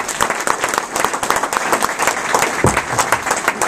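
An audience gives sustained applause as a new campaign chair is welcomed at a United Way gathering, many hands clapping steadily and fairly close, with no talk over it.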